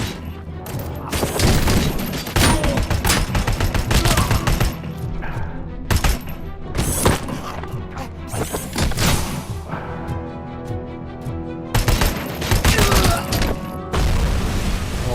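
Full-auto weapons in RoboCop: Rogue City fire in long, loud bursts of rapid shots, broken by brief pauses and single heavy cracks across a busy firefight.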